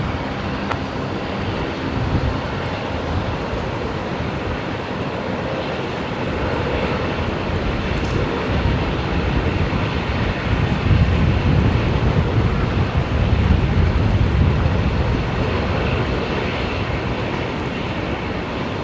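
An airliner taking off from runway 19 right at Brisbane Airport gives a steady, broad engine roar that swells toward the middle and stays loud throughout, with wind buffeting and no talk.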